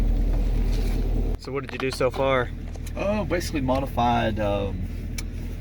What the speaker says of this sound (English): let's go drive. See what this thing feels like